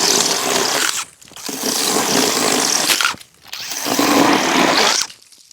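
Kebtek electric mini chainsaw cutting through wood, a loud steady buzzing whine in three long bursts separated by brief drops as the motor eases off between cuts.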